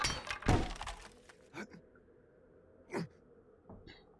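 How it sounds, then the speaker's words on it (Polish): A few short crunchy breaking thuds of a block being smashed in 7 Days To Die, one loud at the start and two softer ones later, separated by quiet gaps. "W tej chwili psujemy, rozbijamy drugi blok."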